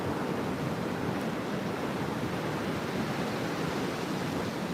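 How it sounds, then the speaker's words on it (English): Ocean swell rolling onto Fingal beach in Australia, a constant broad rushing roar of surf with no distinct breaks and no voices. "The swell just keeps coming now"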